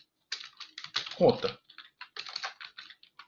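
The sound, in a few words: typing code on a computer keyboard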